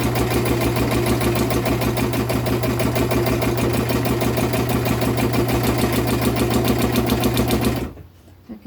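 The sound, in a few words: sewing machine stitching with a free-hand sewing foot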